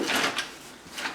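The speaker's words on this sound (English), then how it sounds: "So we'll go ahead and check some of these doors." Apartment door being tried to check whether it is locked, giving a couple of short wooden rattles and knocks of the door against its frame, close and fairly quiet, with a pause between them.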